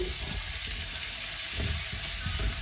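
Cashews and raisins frying in about 50 grams of bubbling butter for kesari, a steady close sizzle with soft stirring bursts and no voices.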